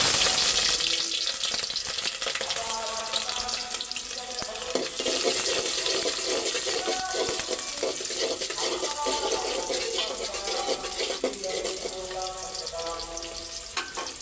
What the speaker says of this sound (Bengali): পেঁয়াজটা একটু বাদামি লাল হয়ে আসলেই চালটা ভাজা দিয়ে নিব